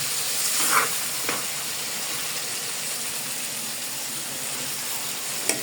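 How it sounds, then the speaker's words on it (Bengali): Layer chicken meat sizzling with masala in a pan, a constant close frying hiss with a few brief stirring knocks and scrapes, no talk. "এখন মাংসগুলোকে সুন্দর করে মশলার সঙ্গে কষিয়ে নিতে হবে"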